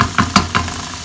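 Chopped onions and peppers sizzle in a hot pan as kofta meat goes in, with a few sharp clattering bursts over steady frying hiss, close and fairly loud.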